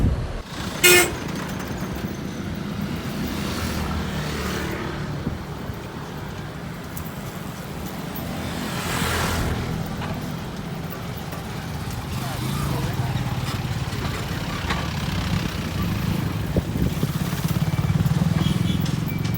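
City traffic in Iloilo City flows past with cars and motorcycles humming nearby, a couple of short horn toots cutting through, and a person talking intermittently over the steady road noise.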